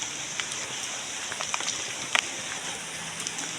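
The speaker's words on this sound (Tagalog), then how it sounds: "Naka-flash lang ng at umuulan pa." Rain falling at night along a dark, unlit path, a faint steady hiss with a few scattered drips and light taps, no talk.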